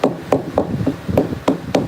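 A hammer taps an animal hide being worked on, giving light, evenly spaced knocks close by, about seven strikes in under two seconds with no talking.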